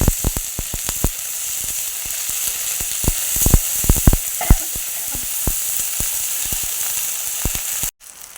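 Ground ginger and cumin paste frying in a pan gives a constant loud sizzle with rapid, irregular spitting pops throughout, ending abruptly.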